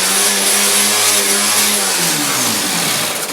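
An angle grinder fitted with a 36 grit disc runs on sheet metal during junkyard car body repair. It gives a loud, continuous high-pitched whine with a harsh grinding hiss, and the pitch sags as the motor slows toward the end.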